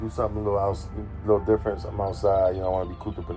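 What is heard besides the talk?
None of the usual background noises is heard.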